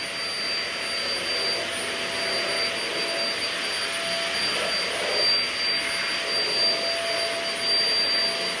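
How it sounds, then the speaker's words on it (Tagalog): A newly bought household vacuum cleaner running indoors, with a steady loud whine and airy roar that holds evenly throughout, slight shifts in tone as it moves, and no talking. "May natutuwa sa binili naming vacuum kahapon."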